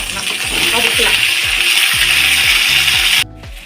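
Garlic, ginger and green chillies sautéing in a little oil for vegetable kurma, a loud close hiss with repeated rhythmic scraping strokes of a spatula, cutting off abruptly before the end.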